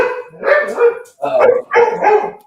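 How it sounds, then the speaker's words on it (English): An older, larger house dog barks loudly and close in a few deep, full woofs, in two or three bursts with brief gaps. "the new doggy's too small to sound like that. That's the old doggy."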